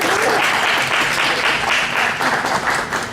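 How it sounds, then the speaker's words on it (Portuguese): Brief, steady applause from an audience for Sandra at a lecture event, many hands clapping closely together with a loud, even texture throughout. "Cadê a salva de palmas?"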